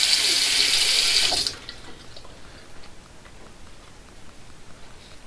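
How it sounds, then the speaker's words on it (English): Hands washed under a running tap before a shave, a steady loud rush of water that stops after about a second and a half, leaving faint drips and quiet handling sounds. "Wash the hands off a little bit."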